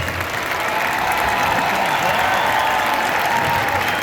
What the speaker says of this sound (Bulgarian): Аплодисменти за ансамбъл Лазарка.